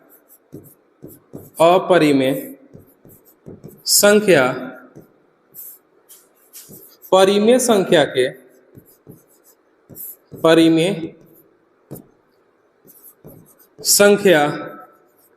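Pen scratches out the solution to a maths exercise in short bursts of writing strokes, close and crisp, between spells of quiet.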